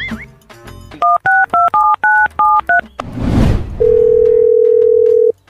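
Button presses on a keypad mobile phone sound as a quick run of paired DTMF beeps, about a dozen short tones in an uneven rhythm, then a burst of noise and a steady dial-type tone that holds to the end.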